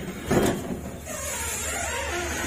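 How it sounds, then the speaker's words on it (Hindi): A house door is pulled open with a brief muffled thump and rattle, followed by quiet room noise. "पापा जी के दरवाजा खोलते हैं"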